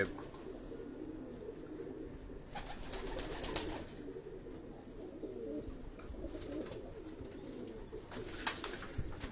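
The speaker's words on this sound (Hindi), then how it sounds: "ये खाकसरा कबूतर है, इसको देखें आप" Khaksara pigeons coo quietly inside a cage on a rooftop loft in Karachi, low murmuring calls recurring over faint steady background noise.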